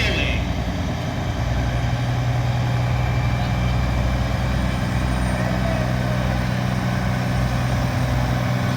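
A Bosley Towing tow truck rolls along in a small-town parade, its heavy diesel engine rumbling and idling loudly and steadily at close range for the whole stretch, with no talk over it.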